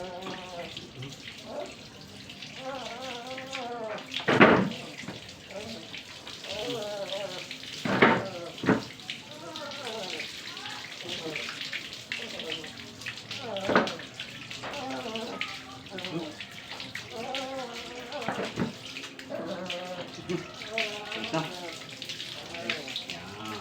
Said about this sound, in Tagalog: Yan guys no, banlawan na natin siya.